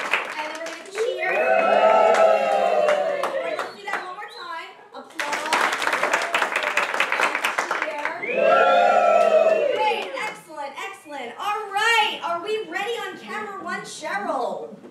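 A theater audience at a dessert-theater playhouse cheers and claps in several loud, swelling bursts, with scattered voices and lighter clapping between them.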